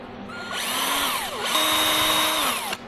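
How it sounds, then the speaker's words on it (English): A power drill bores a hole in a home freeze dryer, a loud close whine that spins up, dips briefly in pitch partway through as it bites, then holds steady before cutting off abruptly. "So if I take the drill right down there, I think that'll work."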